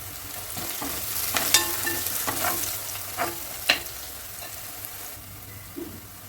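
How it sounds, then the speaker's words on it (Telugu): Onions with ginger and garlic frying in oil with turmeric added, a steady close sizzle broken by scraping stirs and a few sharp clinks of the spoon against the pan. "ఆనియన్స్లో అల్లం వెల్లిపాయ ఫ్రై అయింది"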